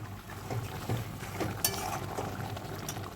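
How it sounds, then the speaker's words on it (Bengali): Potol posto, a Bengali pointed gourd and poppy seed curry, simmering in warm water in a pan: a soft continuous bubbling hiss with faint pops, quiet and steady. "এবার নাড়াচাড়া করে কিছুক্ষণ ফুটতে দেব।"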